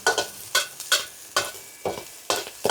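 A little oil heats in a pan as part of cooking a Thai-style steamed fish dish. Short bursts of sizzling and spatula scraping come close together, separated by brief quiet gaps.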